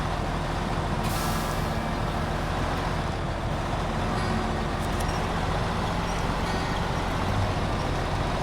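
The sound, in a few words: truck engine downshifting while pulling trailer in video game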